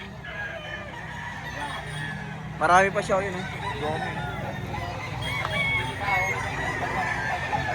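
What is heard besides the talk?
roosters crowing and clucking at a cockfighting chicken market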